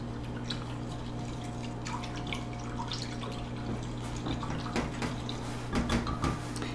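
Orange juice, bourbon and sugar being stirred together in a bowl for a bourbon cake glaze, a quiet wet mixing and dripping sound close by with scattered small clinks, alone with no talking.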